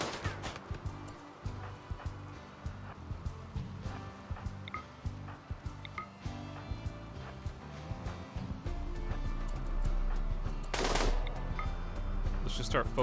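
Ranged weapons fire in the video game RimWorld: rapid, repeated shots crackle in quick succession, then give way to a steadier rumble and one sharp, bright burst near the end.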